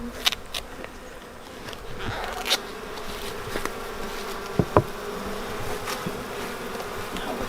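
A swarm of honeybees buzzes steadily and close while being moved into a new hive, a dense continuous drone with occasional soft knocks and taps from handling the box.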